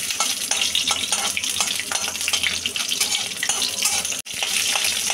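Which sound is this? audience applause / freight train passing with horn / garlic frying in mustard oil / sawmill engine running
garlic frying in mustard oil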